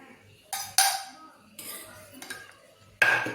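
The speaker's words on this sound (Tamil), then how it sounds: "இப்போ வீட் ஃப்ளார் எடுத்து இந்த எக்கில் போட்டு நல்லா மிக்ஸ் பண்ணிக்கலாம்." A spoon clinks and scrapes against a bowl while wheat flour is stirred into egg, with three sharp bursts of contact spaced apart and softer scraping between them, fairly close.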